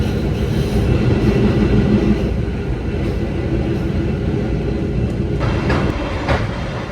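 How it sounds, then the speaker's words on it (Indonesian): A fast-moving Sembrani passenger train on the Jakarta–Surabaya line roars steadily from inside a carriage, a loud constant rumble with occasional rattling clicks from the wheels. "Jadi kereta Sembraninya sudah ngebut ya."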